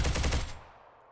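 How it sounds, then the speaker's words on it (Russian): Rapid burst of MK-47 Mutant gunfire in the STALCRAFT video game, about five quick shots close together that end in a short fading echo. "Обновлены звуки выстрелов МК-47 Мутант."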